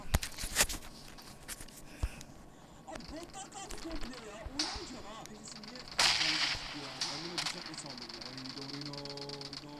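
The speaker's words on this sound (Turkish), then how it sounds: "Adam bana tabancayla vurdu" Pistol shots crack in a shooter video game, several sharp reports scattered through the clip under excited talk and in-game noise.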